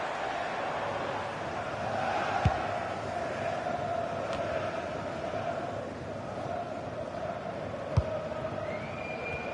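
A broad, steady roar of a large football stadium crowd, distant and continuous, with a couple of sharp thuds cutting through.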